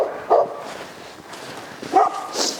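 A dog barks twice in the distance outdoors around a house, short separate woofs with a quiet gap between them.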